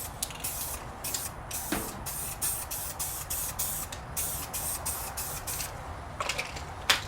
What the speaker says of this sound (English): I'm going to go ahead and give it a little protective coating